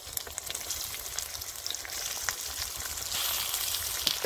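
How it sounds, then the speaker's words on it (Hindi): Chicken frying together with browned onions in a karahi pan, a steady, dense sizzle that stays close and fairly loud throughout, swelling slightly toward the end with faint stirring clatter and no talking. "इसको ना फ्राई कर लेंगे प्याज के साथ चिकन को"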